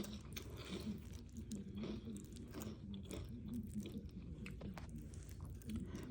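Close, steady chewing of crunchy rice and chicken, with repeated soft crunches and wet mouth sounds in an even rhythm.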